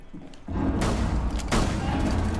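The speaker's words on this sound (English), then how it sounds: "Wait, let me throw a grenade." A grenade detonating in Rainbow Six Siege, a loud booming blast followed by a second heavy burst amid rumbling gunfire-like chaos, close and dominant with no clear talk.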